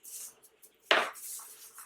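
A cookie cutter presses down through soft shortbread dough in a single firm, close cut. A few faint tabletop clinks come before and after it, with no voices.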